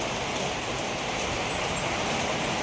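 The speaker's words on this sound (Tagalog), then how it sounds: "sobrang lakas ng ulan." Heavy rain pours steadily on a dog's enclosure during a windy storm, a dense unbroken hiss of close, loud rainfall with no let-up and no voices.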